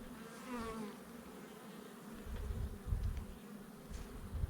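Honeybees buzzing as they are shaken off hive frames into a box during a summer honey harvest, a close, continuous droning hum with low thumps and rustling.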